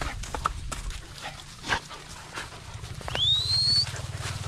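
A dog barks and whimpers close by in an outdoor farm setting where bananas are being planted. The short bursts are followed by a rising whine, with background rustling.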